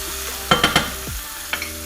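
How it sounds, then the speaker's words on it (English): Fish fillets sizzling in a frying pan as lime juice is squeezed in for fish tacos, with a few sharp clattering stirs and spatula knocks over a continuous close, hissing fry. "Sizzle."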